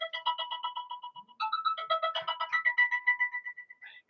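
A phone rings nearby with a repeating electronic melodic ringtone, steady bursts of bright tones that continue for several seconds, clear and moderately loud with no talking.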